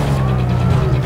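Police siren wailing in Need for Speed Most Wanted, loud and close over a constant car engine roar, sustained through the whole short moment.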